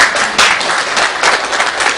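Congregation in a church at an anniversary Sunday service clapping steadily, a close, full round of applause with small swells, no voices over it.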